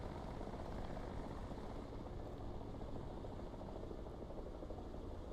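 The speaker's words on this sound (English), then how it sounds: "There is a helicopter." A helicopter in the War Thunder video game drones steadily with continuous rotor and engine noise, constant and fairly loud throughout with no talk.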